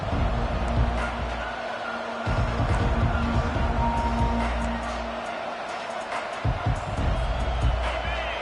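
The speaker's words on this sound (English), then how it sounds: "This crowd bringing an ear-splitting welcome to their visitors" A football stadium crowd cheers loudly and steadily at the opening kickoff, a dense roar with scattered claps and shouts, while a commentator talks over it.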